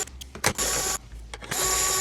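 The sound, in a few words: removing screws from toy bubble blower body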